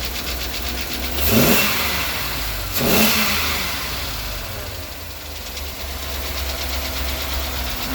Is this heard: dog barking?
no